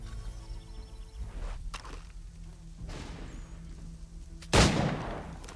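A single loud, sharp gunshot in the video game Assassin's Creed III cracks out near the end, after quieter ambient rustling and soft game sounds.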